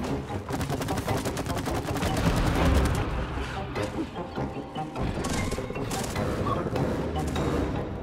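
Rapid gunfire from shooting in the video game It Takes Two, bursts of dense, repeated shots, loud and close, with players talking over the action.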